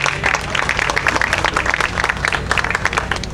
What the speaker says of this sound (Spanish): un aplauso para Delwin